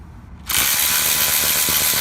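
A Milwaukee M12 cordless 3/8-inch ratchet (2457-20) backs out a bolt on a car. It starts abruptly after a short quiet lead-in and then holds a loud, steady motor whirr with rapid pawl clicking.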